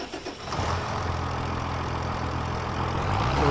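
A small white tractor engine in Farming Simulator 25 cranks and catches, then settles into a steady, continuous low idle rumble that holds close and fairly loud, with no talk over it.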